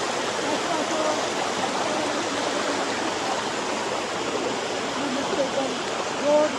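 Rushing water of a stream or small waterfall after rain, its flow reduced, a steady broadband hiss that is even and close throughout, with no talk heard.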